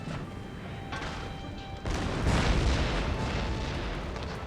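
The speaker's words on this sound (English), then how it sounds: "There goes our mortar battery, firing on their artillery in the center of the city." A mortar battery fires in Empire: Total War, with a deep rumbling boom that swells halfway through and hangs over a steady dense roar of battlefield noise.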